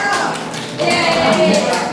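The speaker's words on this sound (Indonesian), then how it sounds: "Kasih tepuk tangan untuk Aldo" Children in a classroom clap for a classmate named Aldo, a short burst of close, uneven hand claps and taps that swells after a brief lull and carries on to the end.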